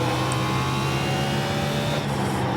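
A race car engine in the iRacing sim on Martinsville, O'Reilly B car, hums at a steady, loud, even pitch under gentle throttle, a continuous tonal drone with no talk.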